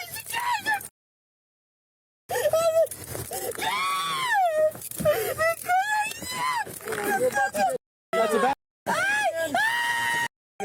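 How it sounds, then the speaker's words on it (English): A person screams and wails loudly in long, rising and falling cries, broken by short silences, with brief talk between the outbursts. "Stop screaming. Stop screaming."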